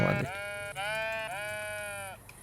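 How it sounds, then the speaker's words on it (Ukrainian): A sheep in the cozy building game Tiny Glade bleats twice in quick succession, a clear, close, steady cry that stands alone without any talk. "Вівця."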